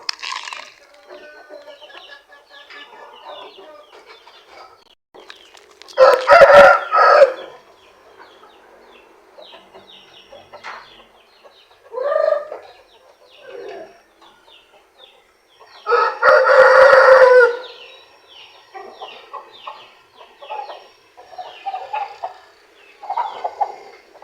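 A rooster crows loudly twice, well apart, with quieter clucking and bird calls scattered between and after.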